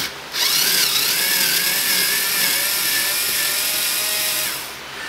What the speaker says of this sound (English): I use an electric screwdriver